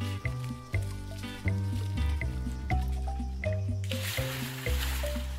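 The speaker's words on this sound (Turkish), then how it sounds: "yine kafamıza su döktüler" Water is poured over people's heads in a dug underground pool, a rushing splash breaking in near the end over steady music.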